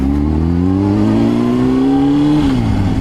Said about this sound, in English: Guess I could show that the motor's pulling strong.